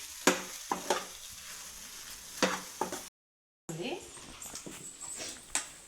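Boiled egg pieces being stirred in a frying pan with a utensil, a few sharp scraping knocks and a soft sizzle, heard close and under intermittent talking; a brief gap of silence interrupts it.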